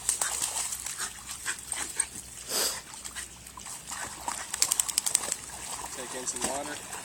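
Dog at a swimming outing making odd whimpering and squeaky vocal noises, with soft yelps and whines scattered over several seconds, close by, with people's voices in the background.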